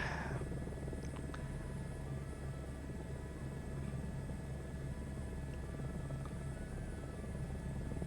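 Steady low rotor and turbine drone from inside an Airbus H125 helicopter cruising at about 100 knots, a constant dense rumble holding level throughout with no talk.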